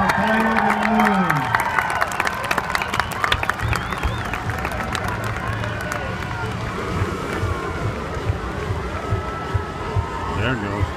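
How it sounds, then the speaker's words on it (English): Outdoor crowd at a hot-air balloon night glow applauding and cheering, a broad steady wash of clapping and voices lasting throughout, with an announcer talking over it. "Give him a round of applause."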